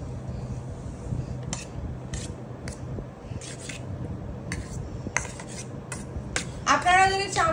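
Cooked rice for chelo kebab is mixed with a spoon in a metal pot, giving scattered scraping clinks and taps that are fairly quiet, then a short voice near the end.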